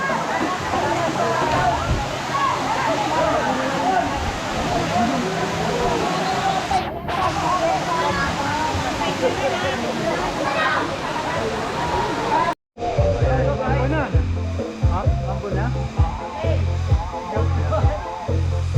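Balete Falls roars as a steady, dense rush of falling water, loud and continuous, with faint voices of visitors mixed in before an abrupt cut to a similar watery wash.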